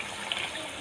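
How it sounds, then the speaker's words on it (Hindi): Water is poured into a cooking pot of garlic for a chicken karahi, a brief rushing splash with a bubbling edge, close and steady for under a second. "पानी भी साथ में"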